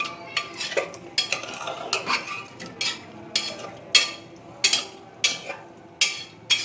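Potatoes stirred in a pan with a metal utensil, giving a steady series of sharp scraping clinks that grow louder and more regular toward the end, with faint sizzling underneath.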